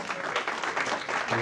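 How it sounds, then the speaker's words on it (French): An audience applauds Rosemont Pierre at a gathering with brief, steady clapping of moderate loudness, while a voice begins to speak near the end. "Moi, je vais applaudir sur Rosemont Pierre."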